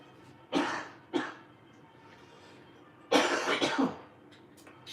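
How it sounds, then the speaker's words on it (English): Two short throat-clearing bursts, then a longer, rougher clearing of the throat with a couple of harsh pulses, close and fairly loud in a quiet room. "I'm gonna clear my throat here"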